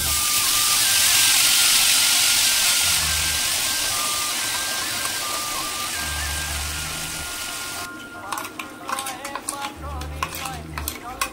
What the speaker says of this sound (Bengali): মশলার সাথে সামান্য জল মিশিয়ে আমরা মশলাটা ভেজে নিচ্ছি।